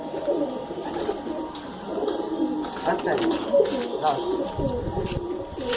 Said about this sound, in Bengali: কাশ্মীর দমা পায়রা, দারুণ পায়রা